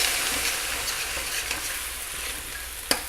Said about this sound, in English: I'm going to put in a half a cup of cooking sherry